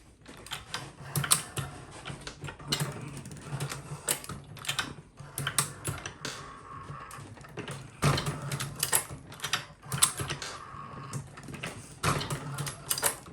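A Lee Pro 1000 progressive press decapping dirty mixed 9mm brass casings, a busy rhythmic run of metallic clacks, clunks and ratcheting strokes repeating steadily, close and fairly loud.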